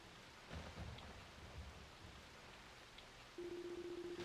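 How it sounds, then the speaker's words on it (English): Rain and thunder in the video game Ys: Memories of Celceta, a quiet, steady hiss of falling rain with low rumbling underneath and a faint sustained tone entering near the end. "Only the sound of the falling rain and constant thunderclaps could be heard echoing through the darkness."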